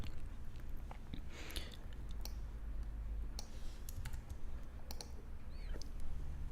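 Quick, uneven keystrokes and clicks from a computer keyboard tap along alone at close range over a low steady hum, with no talking.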